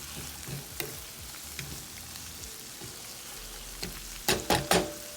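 Fresh garlic sizzling in a pan while being stirred for Southern-style shrimp and grits, a constant close hiss with scattered utensil taps and three loud scraping knocks near the end.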